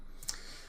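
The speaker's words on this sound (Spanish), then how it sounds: "Entonces, aquí le voy a dar clic" One quick, faint computer mouse click, sharp and close, while working with MongoDB and Xamarin software, with near silence around it.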